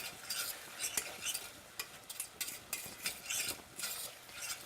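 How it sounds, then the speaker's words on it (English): A spoon scrapes and stirs a thickening flour sauce in a saucepan, with irregular bursts of scraping and soft sizzle coming close and fairly quiet, no voices. "let's just stir that for a little bit more"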